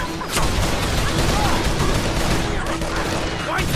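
Gunfire in the video game Call of Juarez: The Cartel, a dense, loud stretch of shots and battle noise that runs without a break, with voices shouting underneath.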